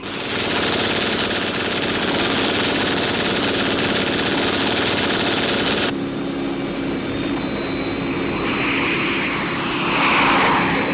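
A propeller airplane drones loudly overhead in a steady, rumbling roar that shifts in tone midway and swells again near the end.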